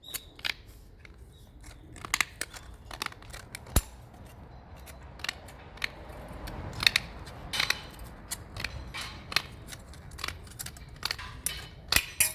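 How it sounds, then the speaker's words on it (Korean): Tin snips cut a steel plate taken from a brake pad backing, giving repeated sharp metallic snips and crunches at an irregular pace, close and fairly loud, with no talk. "이 철판을 가지고 함석 가위로 이렇게 자릅니다."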